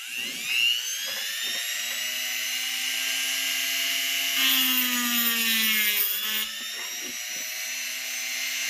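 A high-pitched Dremel rotary tool whines steadily as it cuts a part in half, its pitch dipping under load and then recovering, loud and close.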